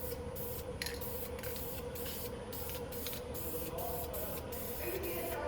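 Aerosol spray paint hisses steadily in light coats onto a car wheel, close and continuous, with brief gaps and bursts as the can is stopped and restarted.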